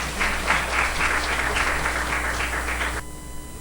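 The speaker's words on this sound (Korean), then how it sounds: "박수 부탁드리겠습니다" An audience applauds to welcome a presenter at a Korean cloud computing seminar, a brief, steady patter of clapping from a modest crowd that cuts off abruptly near the end, leaving low room hum.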